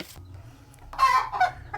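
A hen clucks in a short burst of a few clucks, close by and fairly loud, over a low background hum.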